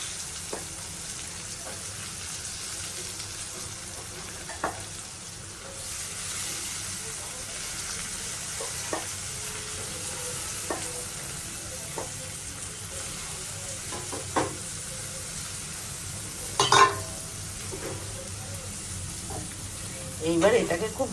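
Carrot and potato pieces fry in oil with salt and turmeric, a steady soft sizzle running throughout, broken by occasional spoon clinks and stirring knocks, fairly close.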